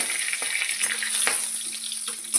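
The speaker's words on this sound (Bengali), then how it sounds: "এখন আমি গোটা জিরে, শুকনো লঙ্কা, গোটা গরম মশলা আর তেজপাতা দিয়ে" Whole cumin, dried chillies, whole garam masala and bay leaves sizzle steadily in hot oil in a kadai, a continuous bright hiss with a few faint pops and scrapes, no voices.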